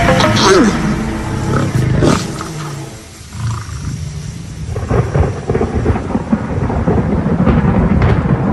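Lions mating give loud, close rumbling growls and snarling roars, rough and throaty, with a drawn-out snarl late on; a narrator's voice runs over the sounds.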